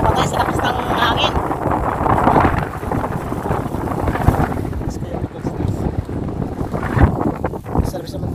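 Strong seaside wind buffets the microphone in loud, rough gusts on a beach during an outdoor cookout, with voices faintly mixed into the roar.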